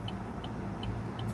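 Steady road traffic with cars passing, a continuous low rumble heard from inside or beside a vehicle on a cake and cupcake delivery run, with faint periodic high chirps over the noise.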